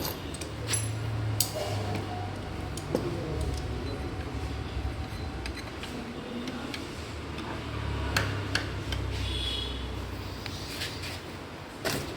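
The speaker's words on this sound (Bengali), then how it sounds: "এই নাটটাকে টাইট দেওয়া হবে।" A nut on the clutch of a TVS Ntorq scooter is tightened, giving scattered sharp metallic ticks and clicks over a constant low workshop hum.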